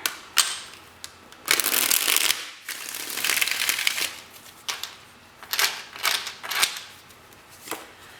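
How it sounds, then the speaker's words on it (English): A deck of tarot cards is shuffled by hand in several bursts, crisp riffling and flicking rushes separated by short pauses and lighter taps, close and clear. "One more shuffle."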